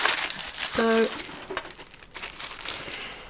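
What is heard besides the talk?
tissue paper crinkling while unboxing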